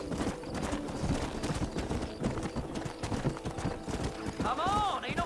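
Horse hooves clip-clop at a trot in the Western video game Red Dead Redemption, an irregular stream of close hoofbeats running throughout, with a person talking over them and a short whinny-like call near the end.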